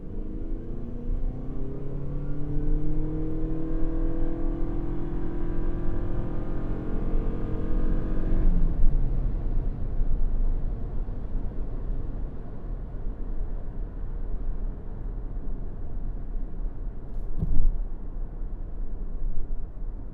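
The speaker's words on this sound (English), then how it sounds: "So we're going to head into an acceleration test now." A 2026 Toyota Prius Plug-In Nightshade pulls away from a complete stop under full acceleration in sport mode, a steady engine whir climbing in pitch for about nine seconds before settling into a loud, continuous road and cabin rumble.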